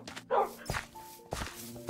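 Short Minecraft wolf-dog barks and yips, a few quick bursts with soft in-game thumps and footstep clicks between them, fairly close and moderately loud with no talking.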